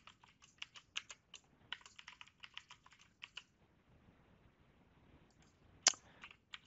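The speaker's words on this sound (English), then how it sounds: "Go ahead and type a password." Password typed on a computer keyboard while setting up Windows 7 in VirtualBox: faint, rapid bursts of key clicks for about three seconds, then a pause and one sharper click with a few more keystrokes near the end.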